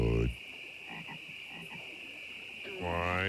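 Frogs croaking from a 1990s Budweiser TV commercial, long drawn croaks at the start and end framing a quieter stretch of softer calls over a steady tonal hum.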